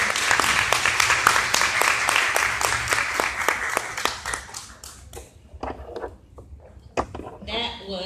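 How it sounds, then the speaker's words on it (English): An audience at a talk on collaborative leadership gives steady rhythmic applause that thins out after a few seconds into scattered claps, with voices talking near the end. "Please give her another round of applause."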